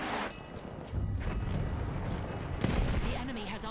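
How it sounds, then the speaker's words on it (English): Distant artillery fire and battlefield booms in the World War I shooter Battlefield 1, a sustained rumbling barrage with a sharper crack near the middle, mixed under voices and game chatter. "Enemy coordinates have been sent to our artillery."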